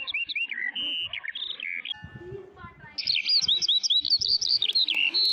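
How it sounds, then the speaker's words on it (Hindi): Cartoon birds chirp while pecking grain, bright tweeting calls repeating in quick bursts, close and clear, with soft pecking ticks underneath. "पंछी आकर दाना चुगने लगे।"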